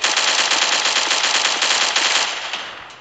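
Battle rifle fire in the Pixel Strike 3D shooter game, a loud continuous automatic burst lasting about three seconds that tails off slightly at the end, alone without talk.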